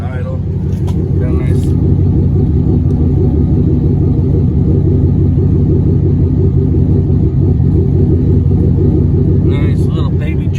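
A 2018 GMC Sierra pickup with a modified exhaust idles close by, a loud, deep, continuous rumble with a slightly choppy, lopey pulse throughout, with a voice briefly heard over it at the start and end.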